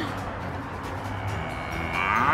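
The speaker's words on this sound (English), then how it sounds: "Was that a cow?" A single low, drawn-out cow moo from nearby, rising slightly at the end, with no talking.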